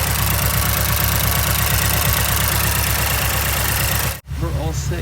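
Mazdaspeed 3 engine idling at 1000 RPM after a high-pressure fuel pump install, with a loud, steady, close rhythmic idle and fine ticking that cuts off abruptly near the end before a quieter hum resumes.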